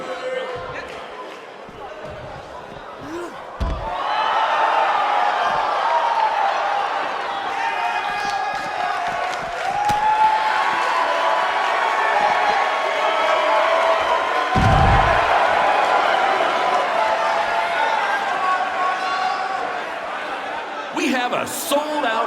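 A wrestling arena crowd in the WWE 2K19 video game roars and cheers steadily for many seconds, with a commentator talking over the din and a few loud thuds and impacts.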